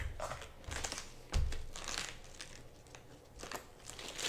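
Outer leaves being peeled off a cabbage with a knife at hand while prepping sauerkraut, giving a close run of crisp crinkling, tearing and crunching with one louder snap partway through, with no talking.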